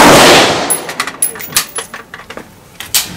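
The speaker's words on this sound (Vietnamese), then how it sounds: "Mặc dù mà đeo cái tiếng nổ của AK rất là to các bạn." A burst of sharp metallic clinks and rattles follows a loud opening blast, likely spent brass and gun parts after AK-47 rifle firing at the Cu Chi tunnels shooting range, with faint voices nearby.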